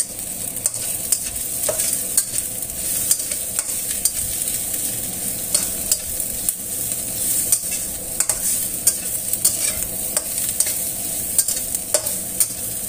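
Tempeh stir-frying in a pan, a steady close sizzle with frequent scraping clicks of a spatula stirring throughout, no voices.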